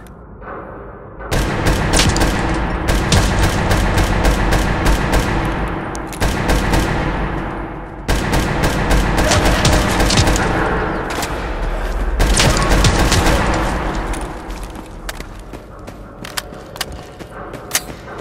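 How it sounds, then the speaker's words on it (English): Assault rifle fire in the Fallout 4 tunnels comes in long, loud bursts of rapid shots, broken by a few short pauses, then fades into scattered single shots and echoing booms, with no talking. "I raised my assault rifle and took careful aim, firing off shots to neutralize the threat before it could get any closer"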